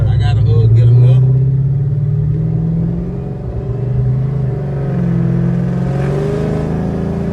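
A supercharged car engine of roughly 1500 hp revs and rumbles up close with a faint supercharger whine, rising and easing over several seconds while people talk nearby.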